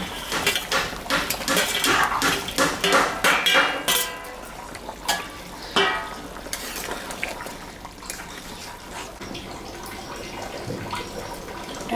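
Small mixed fish drop into a pot of boiling curry, with a cluster of clattering metal knocks and splashes early on, then a steady bubbling simmer, heard close with no talking.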